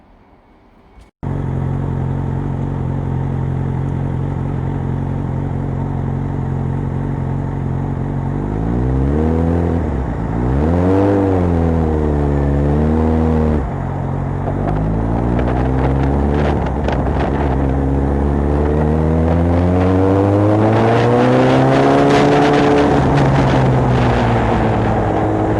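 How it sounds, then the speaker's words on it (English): A motorcycle ride recorded on the bike, the engine droning steadily for a long stretch, then revving up and down through gears with strong wind buffeting the microphone, loud and close throughout. "So I went for a little ride on there."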